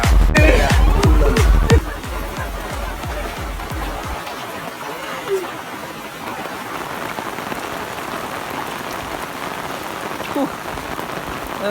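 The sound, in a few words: heavy rain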